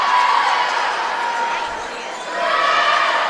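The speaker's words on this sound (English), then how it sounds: "You can hear this crowd going crazy here." A crowd cheers and roars at a varsity high school swimming meet in an echoing indoor pool hall, a loud continuous din that dips briefly in the middle and then swells again.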